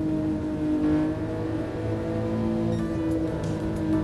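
A 1967 Toyota 2000GT in GT Sport, its engine droning steadily inside a tunnel with a sustained tonal hum that shifts pitch slightly as it downshifts and climbs again, echoing and unbroken.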